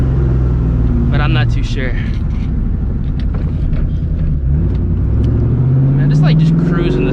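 Low, steady rumble of a 2004 Ford Mustang GT V8 with a catback exhaust cruising from inside the cabin, continuous drone under someone talking throughout.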